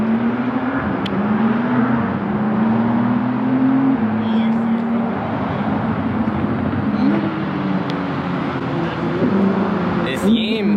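Several cars approach a gas station meetup, a steady engine drone growing and shifting in pitch over about ten seconds, with occasional voices over it.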